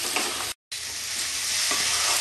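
Cauliflower and potato curry in a Bengali-style wok, frying and being stirred, gives a dense close sizzle with scraping strokes, broken by one brief silent gap.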